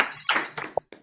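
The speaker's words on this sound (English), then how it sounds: "Jeremy deserves a round of applause" A few scattered claps from participants on an online video call, uneven and sparse bursts with short gaps between them, close and thin rather than a crowd.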